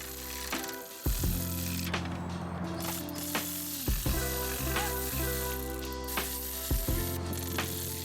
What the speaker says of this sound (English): Using a crisscross pattern, torque down the bolts at 10 foot-pounds.